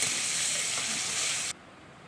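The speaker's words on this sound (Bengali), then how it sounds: "এখন আমি পনিরগুলি ভেজে নেব।" Paneer with salt and turmeric frying in a hot kadai sends up a loud, dense hiss that holds steady, then cuts off abruptly partway through, leaving quiet background.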